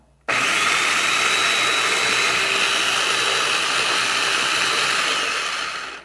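An Oster Up & Down mini food processor switches on abruptly and its small motor whirs loud, steady and close with a high whine on top, then begins to slow just before the end.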